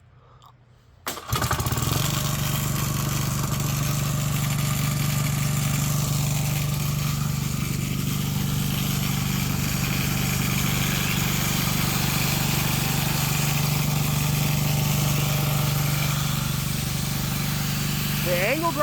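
A homemade diesel generator engine starts and then runs steadily and loudly at a constant drone while powering an angle grinder, with a strong low hum throughout.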